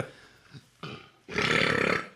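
A person burps loudly: two short guttural bursts followed by a long, rough, rumbling belch, close and alone.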